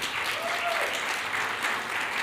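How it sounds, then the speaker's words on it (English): An awards-event audience applauds after a video, a continuous wash of many hands clapping at an even, fairly strong level with no talk over it. "please give another round of applause for that video"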